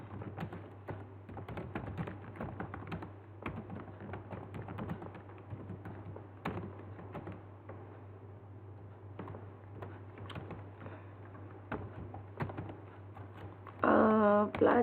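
Someone types an answer on a computer keyboard, a quick irregular run of soft, close key taps over a faint steady hum, with a voice briefly at the end.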